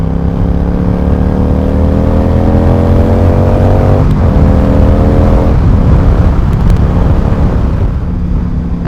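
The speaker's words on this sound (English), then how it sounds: "it certainly responds when you twist the throttle" A heavy Yamaha V-Star 1100 (XVS 1100) cruiser motorcycle revs loudly and continuously under throttle, its engine note climbing steadily in pitch, dipping briefly midway as it shifts, then pulling again with a droning rumble throughout.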